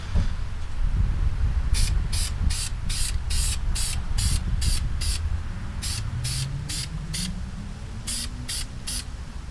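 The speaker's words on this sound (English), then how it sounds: "Paint this." Rhythmic series of short spray paint can bursts, a dozen or more quick hissing pulses in a row, loud and close over a low background rumble.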